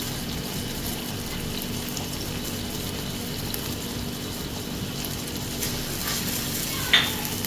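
Korean fried chicken sauce of vinegar, mustard paste and brown sugar being stirred in a pan, a steady close scraping and bubbling sizzle throughout with one brief sharp clink near the end.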